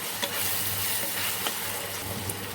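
Ginger garlic paste sautés in a pan for egg biryani, a steady close sizzle broken by a few soft stirring scrapes, with no talking.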